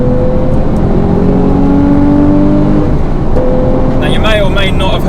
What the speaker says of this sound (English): when I stuck it into sports mode there that the car did get louder